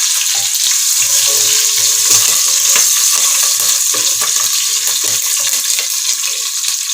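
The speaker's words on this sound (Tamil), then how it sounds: "புதினா கொஞ்சமாக உள்ளே போட்டுக்கலாம். உள்ளே போட்டு நல்லா வணக்கி விட்டுக்கோங்க" Mint leaves sizzle and fry in a hot pan for egg biryani, a loud, steady crackle throughout with a utensil stirring and scraping in an irregular rhythm close by.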